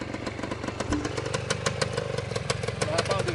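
A 1970 Yamaha DT1 250 two-stroke enduro motorcycle, original and unworn, revs nearby with a rapid popping, crackling exhaust that rises in pitch, while someone talks over it.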